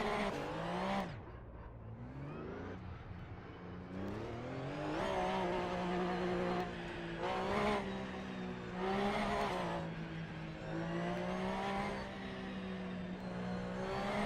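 Porsche Cup race car lapping Brands Hatch in Assetto Corsa Evo, its engine howling up through the gears with sharp shifts and downshifts, the pitch rising and falling continuously with faint tyre scrub, fairly loud and steady throughout.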